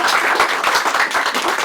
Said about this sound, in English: We can get a round of applause for them all